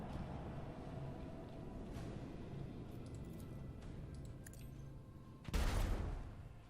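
Torpedoes launching in the Warhammer 40k: Rogue Trader video game: a loud, broad whoosh-blast bursts in near the end over a steady rumbling ambience of ship noise and faint tones.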